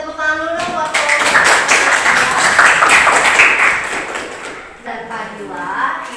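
Applause from a classroom of students, broadband clapping filling several seconds in the middle, loud and close, with a teacher's voice talking before and after it.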